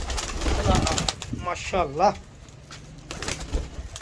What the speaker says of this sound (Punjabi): ਤੁਹਾਨੂੰ ਮੈਂ ਟੈਡੀ ਕਬੂਤਰ ਦਿਖਾਉਂਦਾ ਜੀ, ਉਹ ਪੁਰਾਣੇ ਨਸਲ ਦੇ ਟੈਡੀ ਕਬੂਤਰ